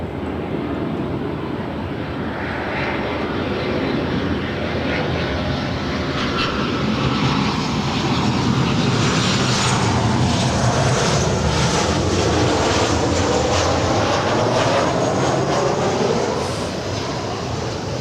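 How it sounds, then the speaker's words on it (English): A Southwest Boeing 737-700 arriving from Las Vegas at LAX, a broad steady jet roar with hissing turbine whine that holds loud throughout, swelling slightly in the middle as the aircraft passes nearby. "And that is Southwest 102 from Las Vegas, 737-700."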